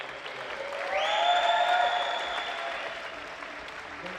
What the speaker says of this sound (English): Greg deserves a massive round of applause for it